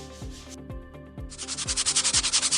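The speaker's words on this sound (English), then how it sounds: "we're just gonna do a quick sand and then take it back and put it on" Sanding of a freshly cut piece during a bathroom renovation, with rough rhythmic back-and-forth strokes that grow louder and faster, rasping and close, with no voices.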